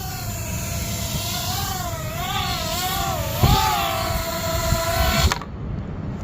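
A Mobula7 1S FPV whoop drone flies close by with a high, thin motor whine that wavers up and down in pitch as it maneuvers. The whine holds steady for about five seconds, then cuts off abruptly.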